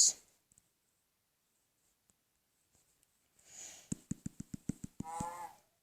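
Cattle on a farm low briefly near the end after a long quiet stretch, accompanied by a burst of sharp rhythmic clicks, all faint and somewhat distant.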